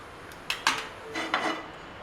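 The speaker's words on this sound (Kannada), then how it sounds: "ಹುರಿಗಡಲೆ ಪುಡಿ ಮತ್ತು ಸಕ್ಕರೆ ಪುಡಿ, ಇಲೈಚಿ ಪುಡಿಯನ್ನು ಒಂದು ಬೌಲ್ನಲ್ಲಿ ಚೆನ್ನಾಗಿ ಮಿಕ್ಸ್ ಮಾಡಿಕೊಳ್ಳಿ." A spoon scrapes and clinks softly in a bowl while roasted gram powder, sugar and cardamom powder are mixed together, with a few brief, quiet strokes in two short bursts and no talking.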